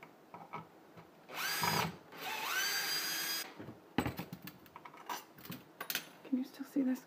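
A power drill backs long screws out of a household electrical outlet in two sustained whirring bursts, followed by clinks and rattles of loose screws and hardware, with faint talk in the background.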